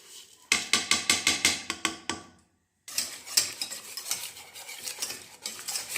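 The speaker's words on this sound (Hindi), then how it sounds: "ये हमने अच्छी तरह इसे मिक्स कर लिया।" A spoon stirs ground red chilli, turmeric, cumin, coriander, food colour and salt together in a bowl for a fried chicken marinade, scraping in a quick regular rhythm, pausing briefly, then continuing in a steady denser stir, close and alone.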